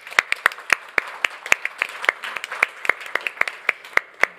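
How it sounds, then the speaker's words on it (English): A conference hall audience applauds panelists at a 2023 domain industry event, a burst of sharp, scattered handclaps at a moderate distance, without speech over it. "extend a big applause to all the panelists"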